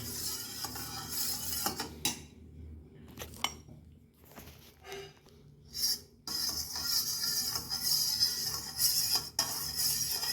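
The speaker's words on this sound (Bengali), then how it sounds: "আপনাকে এটা ভালো করে নেড়ে দিতে হবে" A spoon stirs milk and curd starter in a bowl, giving soft, intermittent clinks and scrapes separated by quiet gaps, close and fairly faint.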